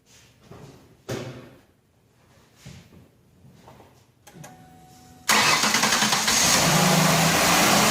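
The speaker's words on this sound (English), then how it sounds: "We'll turn it to 12 volts and then we'll crank the engine over." Car engine cranked with a jump booster pack set to 12 volts: a few quiet clicks and knocks, then the engine catches and roars into a loud steady idle, close by with no talk.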